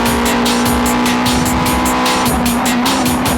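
Toyota Supra race cars in a JGTC race brake hard, their engines droning loud and close while the tires squeal under heavy braking.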